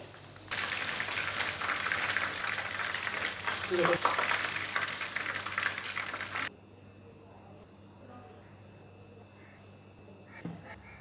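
Masala-coated fish for a Lahori fish fry sizzles loudly and steadily in a hot pan for about six seconds, then cuts off sharply to a low background hush with a faint clink near the end.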